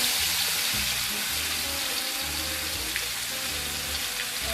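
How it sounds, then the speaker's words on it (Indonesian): Ground spice paste for jengkol rendang fries in a wok, giving a steady, dense hiss of sizzling oil that stays even and moderately loud throughout, with no voices. "langsung kita masukkan ke wajan, ke penggorengan kita goreng."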